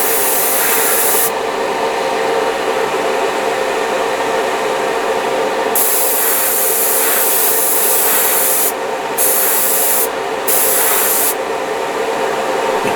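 An airbrush sprays paint, putting out too much material and atomizing it poorly into a broken, choppy pattern. It makes a continuous close, harsh hiss with a few brief cut-outs near the end.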